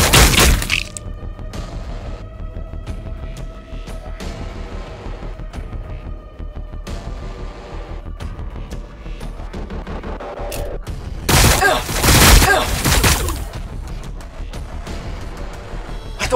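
Battle gunfire in Warhammer 40,000: Battlesector on a landing pad: sharp shots and a steady rattle of distant fire, swelling into a loud, dense burst of explosive volleys near the end, with no voices heard.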